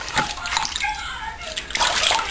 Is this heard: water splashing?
yes